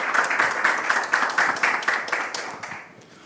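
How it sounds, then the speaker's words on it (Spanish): Conference audience clapping to welcome panel speakers at a startup financing talk, a close, loud run of fairly distinct claps that thins out and fades toward the end. "Así que les recibimos con un aplauso y empezamos."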